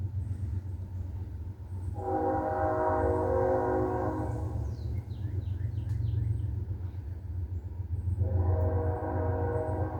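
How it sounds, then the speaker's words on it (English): A train passes through a tiny town with a continuous low rumble. Its horn sounds in two long blasts, one in the middle and one near the end, loud and fairly close. "trains go through here, this tiny little town."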